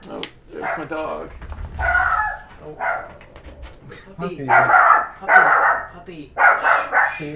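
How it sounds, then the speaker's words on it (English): A pet dog at home gives several short, yappy barks in separate bursts, close by and mixed in with a person talking. "Oh, there's my dog."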